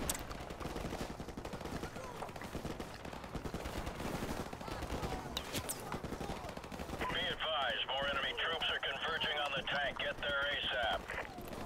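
Rapid machine gun fire rattles through a Modern Warfare Remastered firefight, dense and loud, with heavier bursts toward the end, while voices shout over the shooting.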